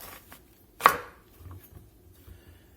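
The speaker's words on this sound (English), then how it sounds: "And then we're going to cut right down the middle." A single sharp knife thunk as a blade cuts down through the middle of a squash onto a board, followed by faint handling noise in near silence.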